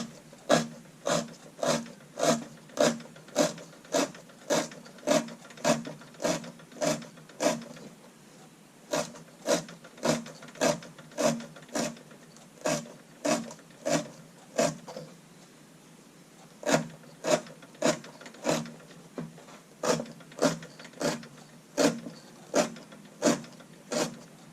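A knife edge sharpened on a soft Arkansas stone slices repeatedly through rope in a cut test, producing dozens of sharp, evenly spaced crunching cuts in a steady rhythm with two brief pauses, close and alone.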